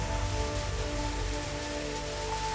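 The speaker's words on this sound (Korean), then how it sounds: "시원스레 쏟아지는 빗줄기를 차곡차곡 모아줍니다" A rain shower falling at sea, steady dense patter of drops on surfaces in a continuous wash of noise, close and unbroken, with no voices.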